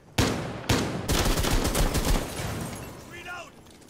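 Rainbow Six Siege shotgun blasts ring out as two sharp, loud shots in quick succession, then a longer rattle of gunfire that fades toward the end.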